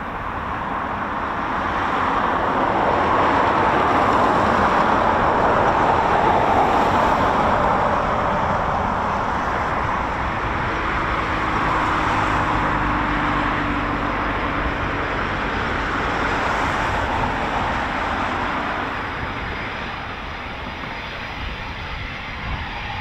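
Eurofighter Typhoon FGR4 jet landing and braking on the runway, a loud, sustained roar that swells and then slowly fades as it slows.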